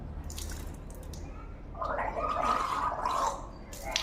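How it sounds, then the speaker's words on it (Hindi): Water gargled in the throat while performing wudu ablution, a close bubbling rattle that swells midway and lasts a couple of seconds over a steady background hiss. "तो गरारा किस तरीके से करना है वो भी मैं आपको करके बताता हूँ"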